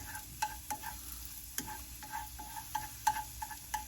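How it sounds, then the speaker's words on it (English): Chopped onion cooks gently in butter over a low flame, making a quiet sizzle broken by soft scraping stirs and light taps at irregular intervals, close up with no talking. "I've chopped the onion, and I'm just going to let that start to infuse in that butter over a low flame"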